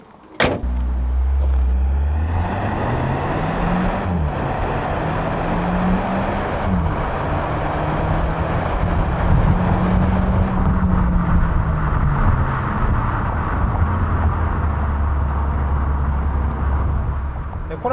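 A Hyundai Kona 1.6 gasoline turbo SUV with a DCT and all-wheel drive accelerating on the road, engine pitch climbing and dropping through gear shifts under a cabin hum, with a voice talking over it.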